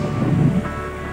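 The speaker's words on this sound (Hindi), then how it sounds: "पानी का बहाव काफ़ी तेज है और काफ़ी ऊंचा झरना है।" A steady, dense roar of fast-flowing water from a high waterfall at Dangaddi, Simdega, close and fairly loud, with a constant wash of noise and no voices.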